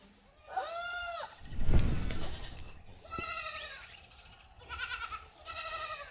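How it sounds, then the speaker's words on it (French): Several loud goat bleats echo close by in a Senegalese village, wavering cries in separate bursts with a brief noisy thump between them, no talk. "Jusqu'à ce que cette foutue chèvre se mette à hurler dans tous les sens."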